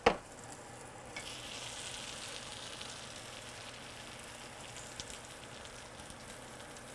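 A hash brown frying in a pan is turned with a spatula: a sharp scrape or clack at the start, then a steady close sizzle of hot oil with a few light taps.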